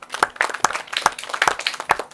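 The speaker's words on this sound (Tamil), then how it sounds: "கரகோஷம் கொடுங்க" An audience at a Kanchipuram silk saree shop event claps in scattered, uneven bursts over about two seconds, moderately loud and fairly close, with no talk over it.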